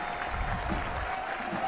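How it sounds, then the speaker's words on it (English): Soccer crowd at a U.S. Open Cup match between the Pittsburgh Riverhounds and D.C. United rising for a standing ovation, a steady wash of applause and cheering that fills the whole brief moment at an even level. "What an ovation from yeah."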